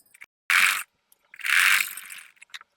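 Sewing machine stitching a sleeve seam on fabric, running in two close bursts, the first about a third of a second long and the second longer, with a few faint mechanical clicks before and after.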